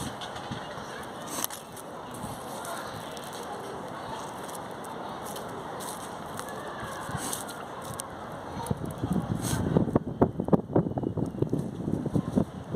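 Wind gusting on a beach, buffeting the microphone with a steady rushing roar that grows rougher and louder toward the end.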